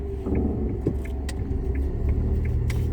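Interior of a car driving over a bumpy road, with a steady low rumble and repeated small jangling rattles and knocks as it jolts along, close and without talk.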